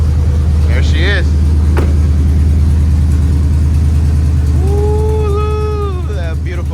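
Drift truck engine running at a steady, slightly choppy idle after sitting unused, loud and close, with people talking over it and a faint high squeal near the end.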